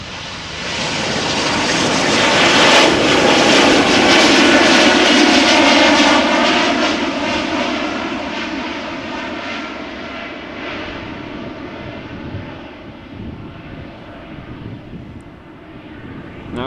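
A KLM Boeing 737 at Amsterdam Schiphol gives a loud, sustained jet engine roar that swells over the first few seconds, holds strong, then slowly fades as it moves away.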